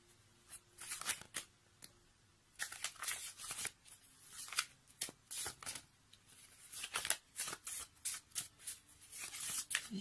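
Oracle cards being shuffled by hand in quick, riffling bursts of crisp paper flicks with brief pauses between them, close and fairly quiet, with no speech.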